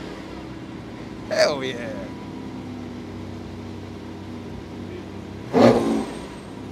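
Supercar engine on a London street, two sharp loud revs a few seconds apart rising over a low idle, with a person speaking briefly between them.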